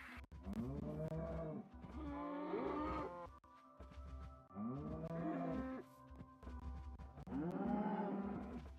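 Cows moo in the video game Minecraft, four long, low, drawn-out calls spaced a second or so apart. The calls are clear and close, with no talking over them.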